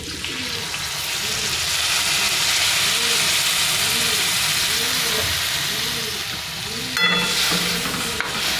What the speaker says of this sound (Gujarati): હવે આમાં આપણે થોડુંક નાખશું પાણી.